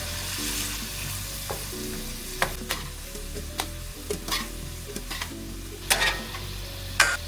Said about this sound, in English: Add 2 pounds of shrimp. Saute until they're done and then remove.